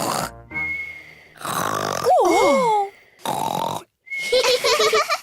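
A cartoon pig uncle snores loudly in bursts, wheezy rasping inhales and gliding whistling tones separated by short silences, close and exaggerated like a character voice imitating snoring.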